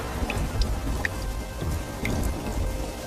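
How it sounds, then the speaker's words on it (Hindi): Steady rain falls in cold weather outside a house, a dense continuous patter with scattered sharper drops. There are no voices. "ये बारिश का सिलसिला यूं ही कुछ दिन तक जारी रहता है।"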